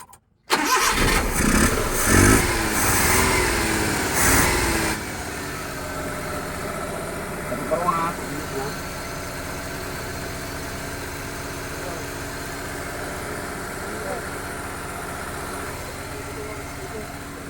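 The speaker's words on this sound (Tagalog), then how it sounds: "Testing muna natin bago natin baklasin itong makina." A small Suzuki F6A three-cylinder, 12-valve engine cranks and starts with a few loud bursts, then settles into a steady, even idle that runs on for many seconds, with brief faint voices.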